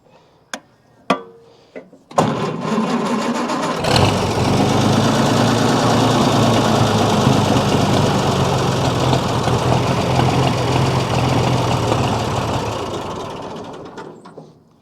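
A 1940 Oliver 70 Row Crop tractor with a gummed-up carburetor follows a few sharp clicks, then cranks and catches. The engine runs loud and close for about twelve seconds with an uneven, knocking idle before fading out.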